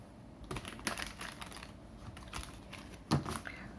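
A tarot card deck is shuffled by hand, giving a run of close, crisp clicks and riffles with one sharper snap near the end.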